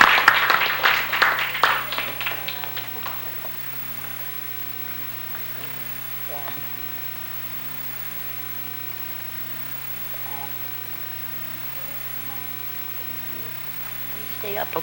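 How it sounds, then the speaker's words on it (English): Audience applause at a senator's resolution and certificate presentation, a burst of clapping for the first honoree that fades within about three seconds, leaving a quiet room hum. "Give her a round of applause."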